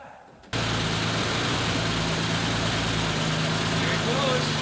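A 1941 Lincoln Continental V12 engine catches after a brief quiet moment, then settles into a loud, steady low idle rumble that runs to the end.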